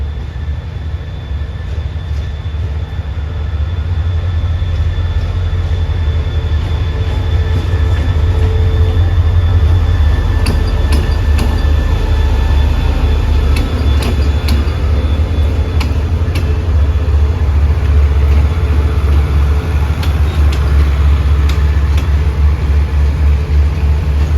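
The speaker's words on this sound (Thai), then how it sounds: "ขบวนรถด่วนพิเศษขบวนที่ 45 นะครับ" Special express train number 45 runs steadily on Thai rails, a loud continuous low rumble with rhythmic wheel clatter and a faint high whine, no voices over it.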